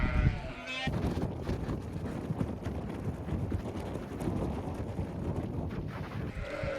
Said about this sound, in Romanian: plin de oi